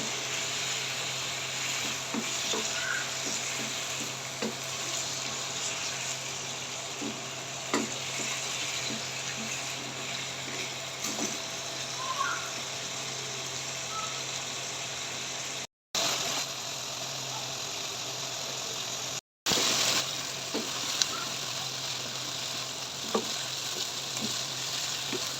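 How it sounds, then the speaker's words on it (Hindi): Chicken pieces frying in a pot for degi-style chicken korma, a steady broadband sizzle running throughout with occasional stirring clicks, close and fairly loud, interrupted by two brief dropouts and no talking. "5 से 7 मिनट इसको अच्छे से फ्राई कर लेंगे हम"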